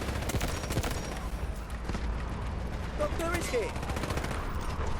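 Gunfire in the shooter Delta Force: scattered shots and rapid bursts with mechanical clatter amid constant game noise, with a voice speaking underneath.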